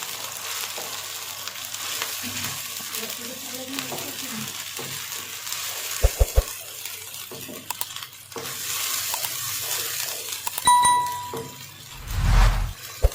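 Minced meat going into light-browned onions in a pan, with steady frying hiss and stirring scrapes plus a few sharp clinks of a utensil; a louder burst of sizzle near the end, with no talking.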